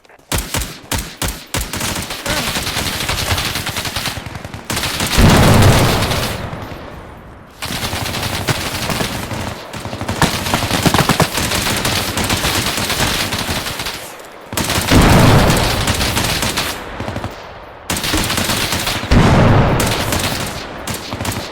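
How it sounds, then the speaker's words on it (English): Sustained automatic gunfire in a multiplayer tactical shooter game: long, loud, rapid bursts rattle almost continuously, broken by brief pauses, with a few single shots at the start. "Provide cover fire, provide cover fire."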